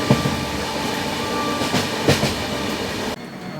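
Samleswari Express passenger train rolling steadily along the rails, a continuous loud rumble with a few sharp wheel clacks, the noise dropping abruptly near the end.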